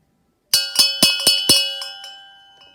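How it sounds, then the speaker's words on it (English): A handcrafted metallic bell strikes about five times in quick succession, then rings on with a long, fading shimmer. Loud and close, no voices. "the bell is still moving, but you can hear sometimes there's a little bit more that it's like still ringing"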